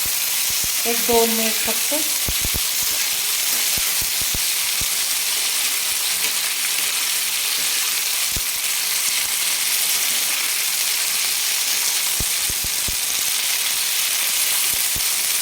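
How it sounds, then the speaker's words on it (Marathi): Thin potato slices frying in hot oil in a pan, a steady close sizzle with scattered sharp crackles and spatula taps, and a short spoken remark near the start. "पाण्यातून काढून लगेच आपल्याला तव्यामध्ये टाकायचं आहे तेलात।"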